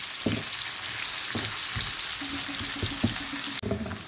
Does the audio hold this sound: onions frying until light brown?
yes